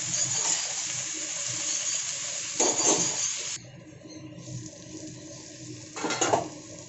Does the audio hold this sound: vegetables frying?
yes